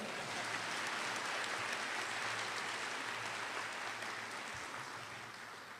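Steady, full applause from a large crowd at a York College honors recognition ceremony, a dense wash of clapping that holds evenly and tapers slightly at the end.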